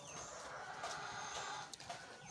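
Laying hens kept in separate coop cages cluck and murmur faintly, soft overlapping fowl calls against a low steady background with no speech.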